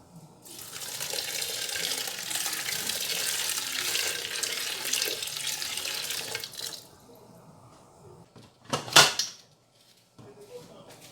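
Water pours steadily into a pressure pot holding beans for several seconds, a broad rushing splash, then stops; a metallic clunk follows.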